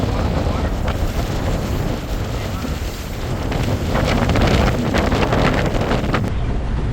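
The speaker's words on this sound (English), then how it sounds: "it's so windy, even the ducks are taking a break from the wind." Strong wind buffeting the microphone aboard an island-hopper boat heading to a sandbar, a roaring, gusty rush that swells louder midway, with water and boat noise underneath.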